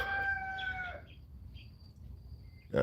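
Farm birds call at a petting zoo where guinea hens and a white peacock are kept: a loud sustained crowing call in the first second, then faint scattered chirps over steady outdoor background noise.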